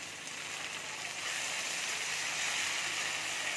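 Tomato hits a pan of frying onions, setting off a loud, dense sizzle that swells slightly and holds steady throughout, with no voices.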